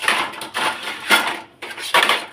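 Metal scrapes and clatters, several short bursts separated by brief pauses, as a lid goes onto a pot of khichuri, close and clear with no talk.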